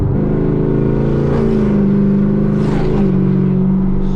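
Camaro ZL1 engine and exhaust drone steadily while driving at night, a loud continuous low rumble with rising revs and a swell midway, no voices.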